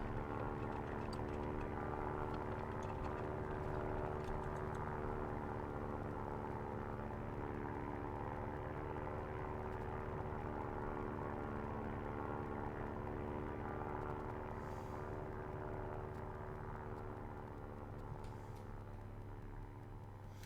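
A propeller plane flies in the survival video game Stranded Deep, its engine a steady, unbroken droning hum that holds at a constant loud level throughout.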